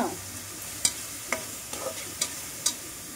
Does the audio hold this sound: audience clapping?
no